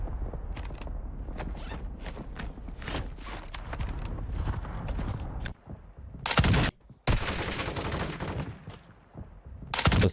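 Footsteps thud on wooden floors in Warzone 2 gameplay, a rhythmic run of close knocks, broken by loud bursts of gunfire near the end.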